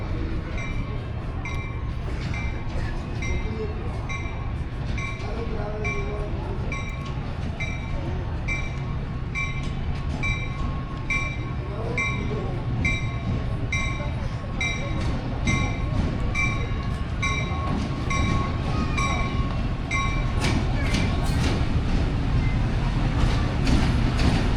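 Jaffar Express passenger train hauled by locomotive 6406, a steady close rumble of moving rail cars with rhythmic wheel clicks over track joints and occasional faint squeal, continuing without pause.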